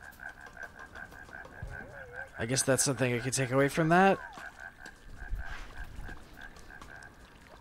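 Frogs croak in a quick rattling burst at night in the video game Shelter, a short loud run of calls against a faint steady ambient tone, with someone talking before and after.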